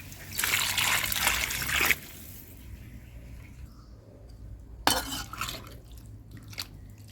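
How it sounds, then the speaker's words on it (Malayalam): Water poured into a cooking pot of lentils and vegetables, with a bright splashing gush for about two seconds, a quieter lull, then a second short pour and trickle nearby. No talking. "വെള്ളം ഒഴിക്കട്ടെ."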